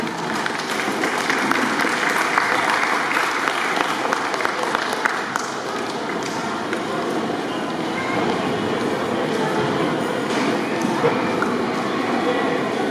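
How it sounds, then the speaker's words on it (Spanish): Audience applause at a tribute ceremony honoring association founders: dense, sustained clapping from a gathered crowd that fills the room for about thirteen seconds, with some voices mixed in. "Un voto de aplauso."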